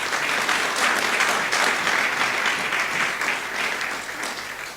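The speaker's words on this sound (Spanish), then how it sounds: "Dale un aplauso a nuestro Señor Jesucristo" A church congregation claps together in steady, dense applause, loud and sustained for several seconds before easing slightly at the end.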